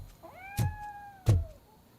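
A cat named Grumpy in the game RoboCop: Rogue City gives a drawn-out rising meow, clear and close, punctuated by two dull knocking thuds, with no one speaking.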